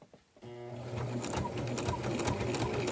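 A sewing machine sews bias tape along the edge of a quilted hot pad, starting after a brief pause and then running in a steady, close, rapid whir for the rest of the stretch.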